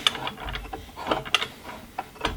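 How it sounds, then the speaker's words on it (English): A screw being backed out of the blade guard of a Dewalt mitre saw with a hand tool, a quick run of small ratcheting clicks and ticks, close and fairly crisp, with no voices. "we can use the same tool to take this screw out as well"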